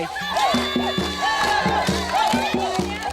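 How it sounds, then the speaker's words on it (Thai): A crowd cheers at a snakehead fish-catching contest in Singburi, Thailand, shouting and calling out loudly and rhythmically in repeated bursts, with music faintly underneath. "ที่เชียร์ก็เชียร์กันไป"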